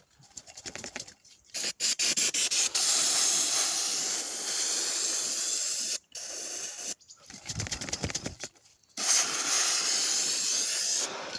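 Spray cleaner hissing onto a motorcycle in long, steady bursts, several sustained sprays broken by short pauses, close and fairly loud, with no talking.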